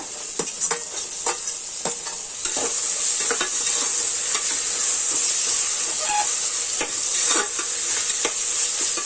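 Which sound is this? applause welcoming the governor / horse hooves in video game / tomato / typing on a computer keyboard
tomato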